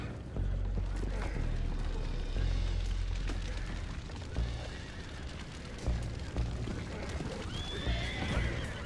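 Horses whinny and neigh repeatedly over dense rumbling noise and clattering hooves, loud and close in a busy, chaotic scene in the video game Red Dead Redemption 2.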